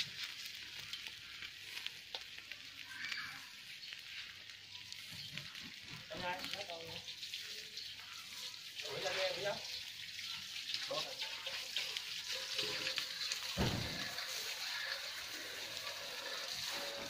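Duck roasting in a garden-style setup for Peking-style roast duck, with faint crackling sizzle and dripping fat under someone speaking and background noise, the sizzle rising somewhat louder partway through.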